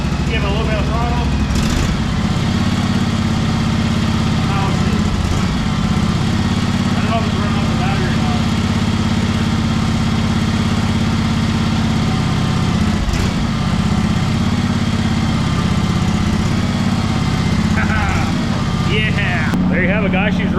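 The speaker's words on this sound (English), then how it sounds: "Give it a little bit of throttle." A petrol lawn mower engine runs steadily with the throttle opened slightly, a loud continuous droning rumble throughout with brief bumps, while someone talks over it.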